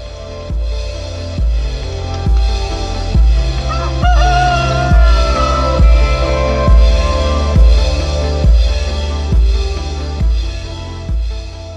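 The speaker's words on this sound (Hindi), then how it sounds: "पर आपको मैं अपनी घर की मुर्गियाँ दिखा देता हूँ, एक लाल मुर्गा दिखाऊंगा आपको" Domestic chickens and a red rooster in a rural backyard in Almora, Uttarakhand, calling loudly in a steady, repeating rhythm of honking clucks and crowing, with no talk over them.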